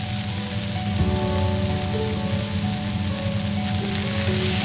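Two tablespoons of butter melting in a pan for colourful vermicelli give off a steady, soft sizzle and crackle, continuous and close for the whole stretch with no talking.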